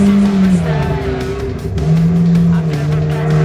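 Lightweight hatchback weighing 1100 kilograms accelerates hard through the Dunlop chicane on a race circuit, its engine note loud and steady in-car, rising and falling with gear changes as a voice talks over it.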